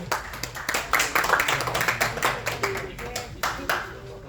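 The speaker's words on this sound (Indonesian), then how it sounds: "Boleh tepuk tangan yang sudah selesai?" Clapping from a group at a corporate leadership training day, irregular overlapping hand claps of moderate loudness for several seconds, with some faint voices underneath.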